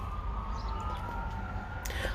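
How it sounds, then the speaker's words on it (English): Ambulance siren passing outdoors, a steady wailing tone held at moderate distance over constant background rumble, with no clear talk. "Yep, it's an ambulance. He's making a lot of noise."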